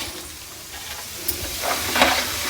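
Roasted gram frying in a pan for a sorghum snack, a soft hiss and sizzle that grows louder with a few stirring scrapes near the end, close and without talking.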